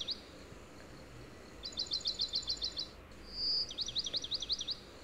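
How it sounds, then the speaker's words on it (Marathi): Songbirds such as house sparrows and common mynas in trees near a house, giving rapid repeated chirp trills in two bursts, fairly distant and faint over a quiet background. "कधी चिवताई चिवचिव भरपूर करते तर कधी आपली साळुंकी ताई असते."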